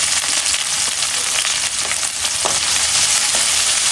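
Chopped onion, green chili, ginger and garlic fry in hot oil with a loud, dense, continuous sizzle and occasional stirring scrapes, heard up close with no talking.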